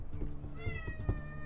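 A pet cat meows once, close and fairly loud, as a short rising then falling call over a low background rumble.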